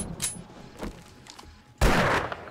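Pistol gunfire in the video game 7 Days to Die: a few soft, distant-sounding shots early on, then one loud, close blast that rings out over a steady game background.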